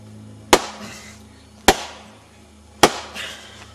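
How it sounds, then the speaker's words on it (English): A steel froe splits a cedar shingle bolt with three sharp, evenly spaced cracking blows. Each strike rings briefly over a low steady hum. "Splitting off a bullet with a fro."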